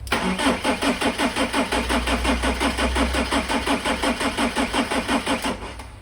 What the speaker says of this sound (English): So we're turning over. I'll give it a bit of a longer turn.